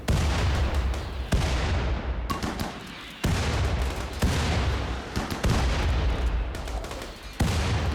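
A RimWorld video game battle with grenades and gunfire: repeated sharp blasts and bursts of shooting in a steady, uneven barrage, fairly close and dominating the scene.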